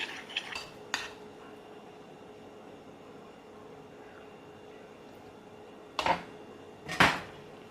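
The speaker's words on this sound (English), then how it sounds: "make sure you stir the bottom of the bowl really well" A spoon works protein brownie batter in a bowl. A few sharp clinks against the bowl stand out from a quiet hiss, singly near the start and twice near the end.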